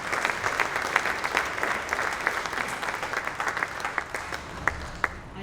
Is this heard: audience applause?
yes